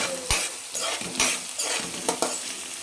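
Onions and chillies frying in a pan give a constant close sizzle, broken by several scraping stirs of a spoon against the metal at irregular intervals, with no one talking.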